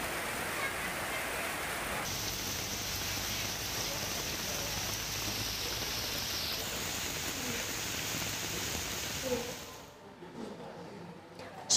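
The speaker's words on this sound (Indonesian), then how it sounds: "hujan deras yang melanda sejumlah wilayah di Jakarta sejak sore tadi" Heavy rain pours steadily over Jakarta streets, a dense continuous wash of drops that stays loud for most of the stretch, then thins and quiets abruptly near the end.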